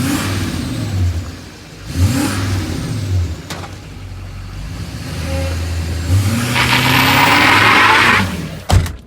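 A lifted, tuned LMM Duramax diesel truck with a full MBRP dual exhaust does a burnout. The engine revs loud and close with a deep rumble, then tyre hiss and roar build toward the end before a sharp burst cuts it off.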